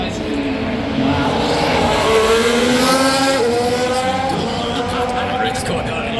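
Formula 1 race cars at Las Vegas Grand Prix qualifying, engines screaming in rising and falling high-pitched whines as cars pass, loud and continuous with crowd noise, while a person talks over it.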